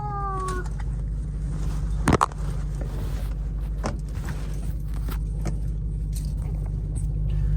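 A Dodge Hellcat widebody driven at high speed, heard from inside the cabin: a constant deep engine and road drone, with a short electronic chime at the start and a brief clunk partway through.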